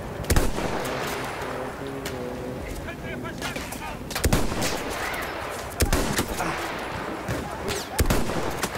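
First-person shooter video game gunfire, including bolt-action rifle shots, cracks out as sharp, loud bursts repeated every second or so over a dense, continuous game soundscape, with a voice speaking at times.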